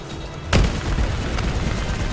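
Explosions and gunfire in the video game Black Ops 3: a heavy boom bursts out after a brief quiet lead-in, followed by a dense, rumbling barrage of continuous fire that stays loud to the end.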